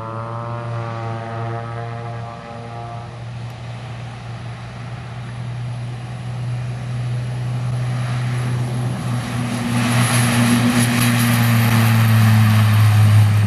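Beechcraft King Air 360 turboprop taking off, its loud propeller drone and engine whine building steadily as power comes up, heard close and alone with no talk.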